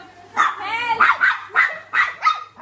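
A dog barks and yips in a quick string of short, high, excited bursts nearby, with a whining stretch between the first barks, fairly quiet in a small room at a home birthday party.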